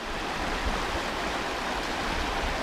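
Strong river current rushing steadily, a dense broadband roar of flowing water close by with no talk over it.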